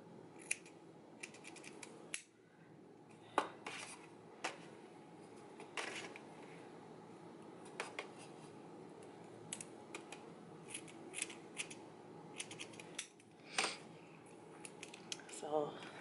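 Scissors snip hair for a stacked bob in short, irregular clicks against a quiet background, with scattered soft rustles and occasional faint sounds of movement between cuts.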